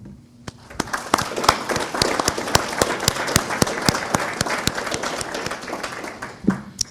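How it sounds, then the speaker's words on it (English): An audience applauds at a U.S. Army retirement ceremony, with individual claps standing out sharply over a steady bed of clapping that holds for several seconds before thinning at the end. "I'd like us to give a round of applause for your dedication to the United States Army"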